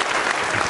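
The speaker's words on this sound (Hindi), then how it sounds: "तालियां जोरों से बजाइए इनके लिए भी" Dense applause from a studio audience at a Ramadan-special quiz show, cheering a contestant's correct answer, steady and loud for a brief moment with no voices on top.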